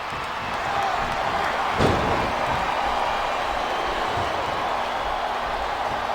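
Arena crowd in WWE Smackdown Vs Raw 2007 gives a steady, distant roar throughout, with a single sharp thud partway through and no speech.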